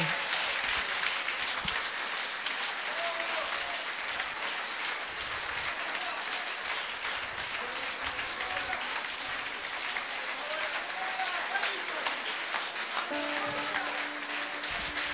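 A church congregation applauds and cheers in praise of Jesus, sustained dense clapping filling the room with some voices calling out through it.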